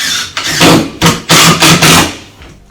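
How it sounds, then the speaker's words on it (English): A cordless drill driving a screw through a bathroom vanity cabinet back into a wall stud, close and loud, with several short bursts of whirring motor and brief pauses between them. "Now let's find a stud and screw it to the wall."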